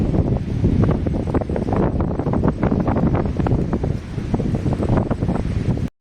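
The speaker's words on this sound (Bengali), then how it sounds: "ঢেউয়ের গর্জন অনেক আছে।" Ocean surf roars continuously at Tajpur sea beach, a dense wash of breaking waves mixed with gusting wind buffeting the microphone, loud and close throughout with no voices.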